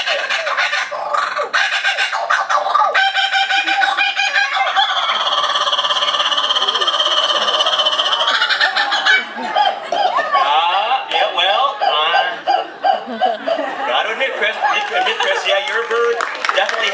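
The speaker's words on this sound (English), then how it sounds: "And it is the Kookaburra from Australia. But not any Kookaburra, the laughing Kookaburra." A laughing kookaburra from Australia calls loudly and close for the whole stretch, its long, sustained rolling cackles and chattering bursts running on without a break.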